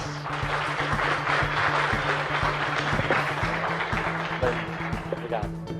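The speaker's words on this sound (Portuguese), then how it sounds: "Por favor, venha até aqui, uma salva de palmas." An auditorium audience at an innovation lecture claps to welcome a speaker onto the stage, a dense, sustained burst of applause mixed with a steady tone and voices.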